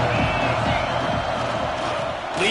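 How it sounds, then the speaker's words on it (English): A packed football stadium crowd roars in a steady, loud wall of cheering and shouting that swells slightly near the end, with no single voice standing out. "This crowd ready to make its presence known."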